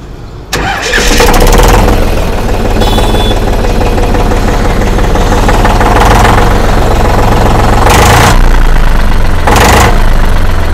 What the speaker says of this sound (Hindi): तो चलिए ट्रैक्टर को स्टार्ट करके आपको इसका आवाज़ सुनाते हैं